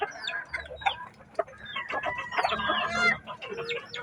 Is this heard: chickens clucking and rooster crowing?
yes